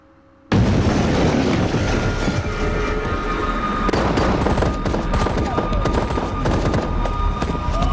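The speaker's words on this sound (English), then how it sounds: "What are you shooting at? Wasting ammo." Sustained gunfire from a zombie-apocalypse TV drama scene, a dense barrage of loud, rapid shots that erupts suddenly and continues without pause, with voices faintly underneath.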